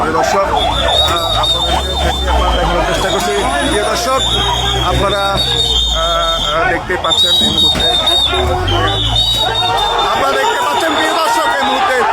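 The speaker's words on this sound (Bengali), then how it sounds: "বিক্ষুব্ধ জনতা এই মুহূর্তে থানার সামনে অবস্থান করছে" An agitated crowd gathers outside Ramganj police station, a loud, dense hubbub of shouting voices with a siren wailing repeatedly over it and a reporter talking throughout.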